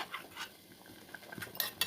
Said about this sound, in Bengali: আমি ভালো করে নেড়ে চেড়ে দেবো।